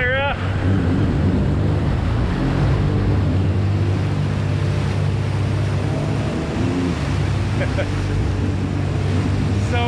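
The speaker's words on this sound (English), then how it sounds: "So many waves." A boat with a quad-engine build runs through ocean waves, its steady low engine drone and wind rush continuous throughout with broadband water and wind noise, close and loud.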